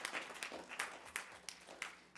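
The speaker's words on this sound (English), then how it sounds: "let's give them a round of applause for their academic accomplishments" Quiet applause from a school board meeting audience, a brief patter of clapping with a few sharper individual claps, fading toward the end.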